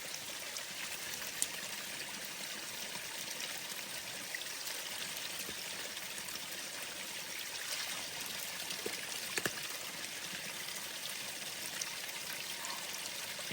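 Steady running spring water flows continuously on a mountain trail, a soft broadband rush with no voices, like a small stream or spring trickling nearby.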